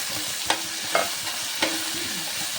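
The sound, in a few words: frying onions, green chillies, cashews and mint in biryani masala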